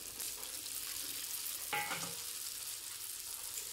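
Pasta coated in beaten egg frying in hot oil, giving a steady, fairly quiet sizzle with a brief burst of stirring partway through; no voices.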